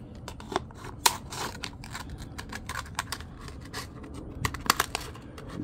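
Scissors cutting the center out of a hard plastic cup, a close series of crisp snips and crackly plastic clicks in an irregular rhythm, with a couple of sharper louder cuts.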